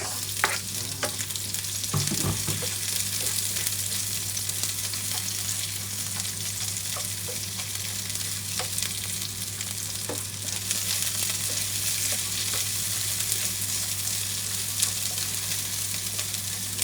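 Onions fry in a pan for a dish of luffa gourd and misua noodles, giving a steady close sizzle with scraping stirring sounds and occasional utensil taps against a constant low hum.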